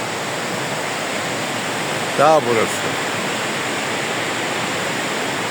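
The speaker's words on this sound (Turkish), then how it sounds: "Bakın şelaleye." Elif Waterfall, one of five or six falls side by side in the mountains, with water pouring down from above near an old mill site: a steady, close rushing roar, with someone speaking briefly over it.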